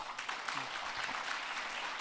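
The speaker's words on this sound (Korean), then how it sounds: "여러분 큰 박수 부탁드립니다." Conference audience applauding at a financial conference session, a steady wash of clapping from many hands at moderate distance, continuous for the whole stretch with no voices over it.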